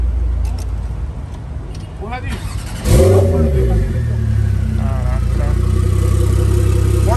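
A red Range Rover Velar's engine fires up with a sharp surge and then revs several times before settling into a steady, close idle. A person talks briefly over the sound.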